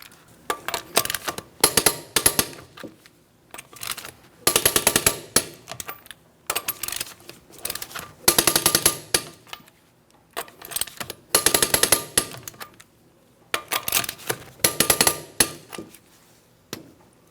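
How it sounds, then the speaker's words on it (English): A torque wrench tightening the lug nuts on a 2004-2008 Pontiac Grand Prix ratchets in about eight separate bursts of quick, sharp metallic clicks, each burst followed by a short silent pause, close and crisp. "I'm going to be torquing each one of my lug nuts to that 100 foot-pounds in a crisscross manner"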